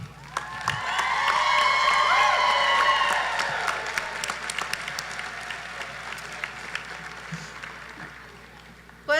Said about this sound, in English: Let's give one final round of applause to our newest PVCC nurses.